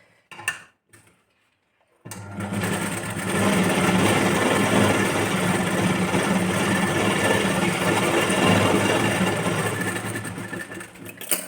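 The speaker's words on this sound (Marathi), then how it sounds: "आता आपल्याला एक स्टिच मारून घ्यायची आहे 1/2 इंच अंतरावर." A sewing machine stitches the lining of a princess-cut, boat-neck blouse sleeve: a brief stop-start, then a steady, loud, continuous whirring run that holds for several seconds before easing off.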